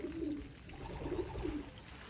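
Racing pigeons kept in a temporary coop coo softly, three or four low burbling coos in close succession over faint background hum.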